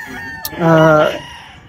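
A single loud crow from a fighting rooster, close by, rising into a long harmonic call that holds for about half a second before trailing off.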